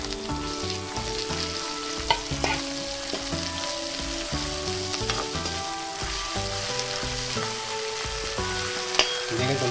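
Dried fish frying in hot oil gives a steady sizzle and stirring noise for a kochur loti dish, partly buried under loud tuneful background music playing throughout.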